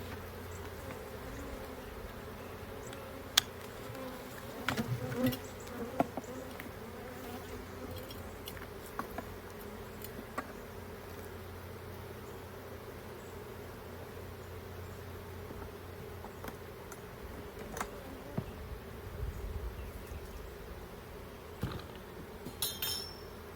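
Honey bees buzz around a hive in a steady, low, continuous hum outdoors. Occasional faint clicks and knocks sound over the drone.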